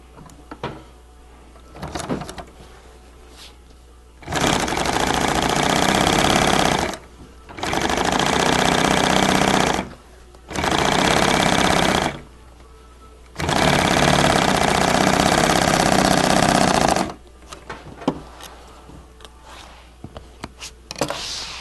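A sewing machine stitches acrylic bond sides in four loud, sustained runs of rapid mechanical whirring, each lasting a few seconds and separated by short quiet gaps, with faint handling noises at the start and end.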